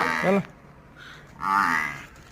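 A young buffalo calf, first-calving and four-toothed, lows twice in short, fairly close calls separated by a brief pause, with a quiet farm background between them.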